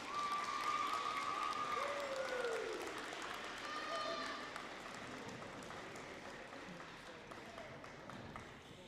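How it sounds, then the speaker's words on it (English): Audience applause rings out at a junior high school awards ceremony, a crowd of clapping hands with scattered voices and whistles, strongest at first and slowly fading toward quieter scattered claps. "I want you to give them a round of applause"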